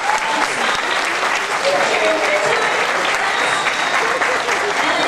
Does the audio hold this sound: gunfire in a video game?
no